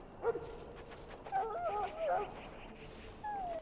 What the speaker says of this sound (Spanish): Más que un perro, parece una hiena, boludo.